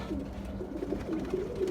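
Several pigeons coo in soft, repeated low phrases, close by and steady, with no talking over them.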